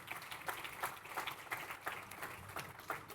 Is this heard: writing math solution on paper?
no